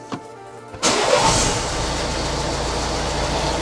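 A Renault car with an EDC6 dual-clutch gearbox starts up after a gearbox oil change: a few faint clicks, then the engine cranks and catches with a sharp rise in loudness, then settles into a steady close idle.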